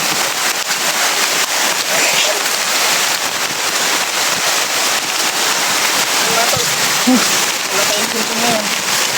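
Heavy rain pours down steadily, a dense, loud, unbroken hiss close by with no gaps, plus a few faint thuds and knocks beneath it.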